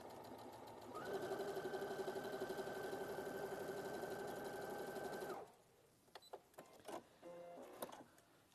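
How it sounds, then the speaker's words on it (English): Sewing machine stitching across fabric, a close, even mechanical whir with rapid rhythmic needle ticks lasting about four seconds, then soft handling clicks and rustles. "And then we're going to sew across."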